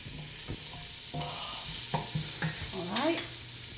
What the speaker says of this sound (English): Let's go in with the garlic. I'm just going to stir it around for just a few seconds.